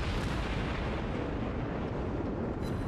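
A dense, continuous rumbling roar of naval artillery fire fills the World of Warships battle, loud and unbroken with no distinct individual shots standing out.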